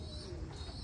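Reddish-brown American giant pigeons coo softly in a breeding loft, a brief, faint, low murmuring call with no talking.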